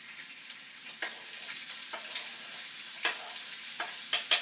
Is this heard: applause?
no